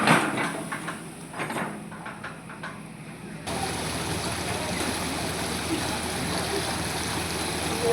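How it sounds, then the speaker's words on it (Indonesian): Fast, swollen brown river water rushing past rubble and building debris, a steady close wash of flow that grows denser and louder partway through. No voices are heard. "Semakin deras dan alirannya semakin kencang ya."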